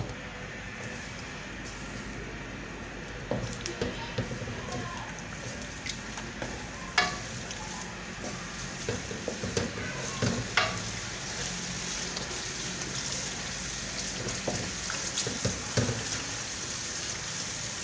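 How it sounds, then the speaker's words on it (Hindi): Yogurt being stirred into beef karahi in a pan over raised heat, a soft steady sizzle with scattered clinks and scrapes of a spoon against the pan, fairly quiet and close. "2 से 3 मिनट हम दही को इसमें मिक्स करके पकाएंगे ताकि दही अच्छी तरह से मिक्स हो जाए"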